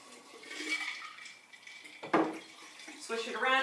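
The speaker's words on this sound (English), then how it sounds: "So I'm just going to put a little water in here." Water poured into a jar holding kefir grains and swished around, a brief splashing burst midway with a watery slosh near the end, under a person talking.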